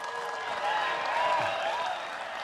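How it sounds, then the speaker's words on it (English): A keynote audience at the Funnel Hacking Live conference breaks into sustained applause, an even crowd roar of clapping with a faint tonal sound running beneath it. "Give me a huge round of applause"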